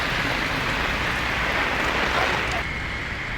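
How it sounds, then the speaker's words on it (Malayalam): Heavy rain falls near the Dubai clock tower, a broad, constant wash of drops and splashing with a watery roar and some wind, steady throughout and slightly quieter toward the end. "ദുബായിൽ ശക്തമായിട്ടുള്ള മഴയാണ് പെയ്തുകൊണ്ടിരിക്കുന്നത്"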